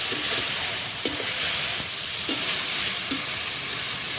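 Water goes into a hot pan of fish soup with vegetables, setting off a dense, steady sizzle close by, punctuated by a few sharp utensil clicks, with no one speaking.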